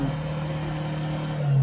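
A Toyota Innova engine with a check engine light fault revving up, a steady close mid-pitched hum with a strong tonal drone that climbs slightly in the final moments.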